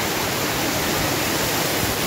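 Floodwater from an overflowing river in Ciawi, Tasikmalaya rushes in a steady, loud, broadband roar that holds constant throughout with no voices.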